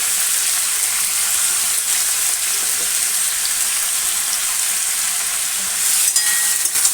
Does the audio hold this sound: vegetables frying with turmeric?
yes